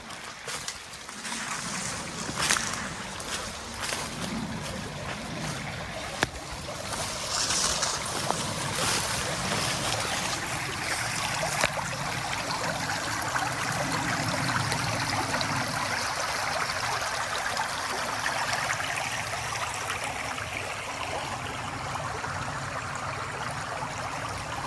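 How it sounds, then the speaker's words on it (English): A remote wilderness creek flows with a steady, full rush of water that goes on unbroken for nearly half a minute, fairly close and with no voices. "I'm gonna go walk over to this creek and see what I can see."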